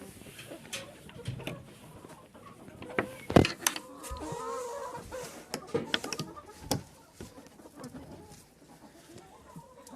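Bantam chickens cluck and peck about on a farm, with scattered short calls and scratching sounds at moderate distance, plus buzzing flies in the background.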